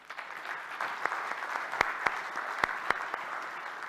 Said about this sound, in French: Les promoteurs de cette initiative sont parmi nous et, je crois, méritent quelques applaudissements.